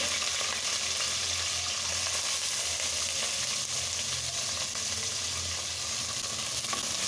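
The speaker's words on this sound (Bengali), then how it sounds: "পেঁয়াজ কুচি দিয়ে দিচ্ছি।" Chopped onion sizzling in hot oil alongside green chilies for a chicken dish, a continuous dense crackle with light stirring throughout, close and loud.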